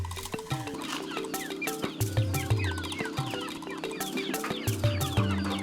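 A flock of chickens and roosters cluck busily on a farm in the Philippines, layered and continuous at close range, with overlapping bird calls and no talking.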